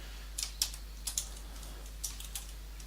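Fingers typing C++ code on a computer keyboard, a faint, sparse series of light key clicks in small irregular bursts against a quiet background.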